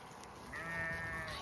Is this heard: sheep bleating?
yes